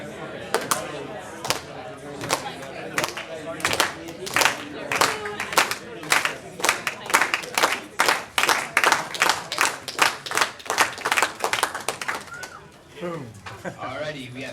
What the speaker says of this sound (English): We need slow clap.